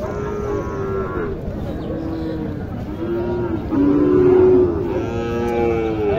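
Cattle low repeatedly at a busy cattle market selling Sahiwal bulls and calves, several long drawn moos in succession, loud and near over a constant crowd murmur.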